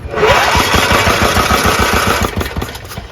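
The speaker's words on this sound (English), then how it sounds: "It sure does crank, and it sounds healthy." A Craftsman lawn tractor's 14HP Kohler engine cranking over with a rapid, rhythmic chugging, loud and close, continuous for a few seconds before slowing near the end; no voices.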